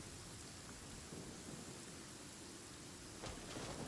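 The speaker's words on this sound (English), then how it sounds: "I like the rain sound though." Steady, faint rain hisses evenly throughout, with a soft rumble of distant thunder near the end.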